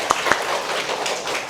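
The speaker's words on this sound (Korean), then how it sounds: "우리 박수를 한번" Applause greets a guest lecturer at a Korean talk event, opening with a couple of distinct sharp claps before settling into a steady, dense patter of clapping from the room.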